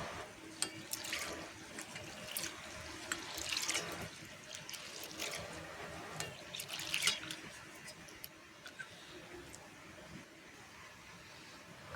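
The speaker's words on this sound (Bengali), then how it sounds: "প্রথমে আমি ডালে জল দিয়ে ডালটাকে ভালো করে ধুয়ে নেব" Lentils (dal) being rinsed in water by hand for a bitter dal with drumstick and bitter gourd: soft continuous sloshing and trickling with scattered drips, fairly quiet, no talking.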